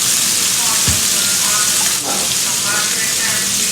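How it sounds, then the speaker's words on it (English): Ground beef browning in a pan for cheeseburger hamburger helper, giving a steady, close, moderately loud sizzle and crackle throughout, with a brief clatter of a utensil stirring partway through. "I'm going to brown my ground beef"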